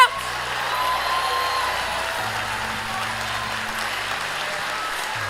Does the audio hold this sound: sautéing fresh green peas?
no